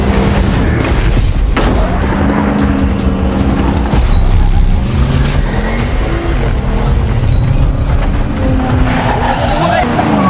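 An ambulance racing through a car chase, with loud engine roar and tire squeals mixed with crashes and dramatic film sound, and voices heard over it.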